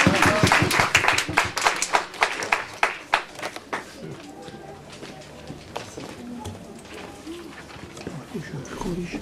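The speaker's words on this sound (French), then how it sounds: "Et je vous demande de bien vouloir les applaudir pour les encourager." An audience at a festival closing ceremony in Yerres claps for children. The applause starts as loud, rhythmic, fairly close claps and then fades into softer scattered clapping with faint murmuring.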